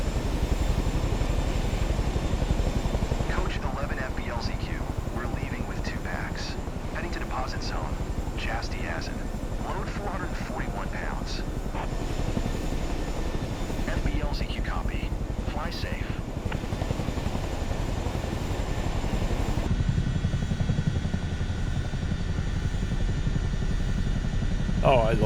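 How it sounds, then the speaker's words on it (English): Chinook twin-rotor helicopter in Microsoft Flight Simulator 2024, a steady loud rotor and engine drone running throughout, with some faint talk in the middle and a brief shift in tone near the end. "Oh, I love Chinooks, they're amazing."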